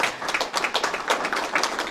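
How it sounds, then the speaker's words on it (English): An audience at an indoor presentation claps in a dense, steady burst of applause lasting a couple of seconds. "Give him a round of applause."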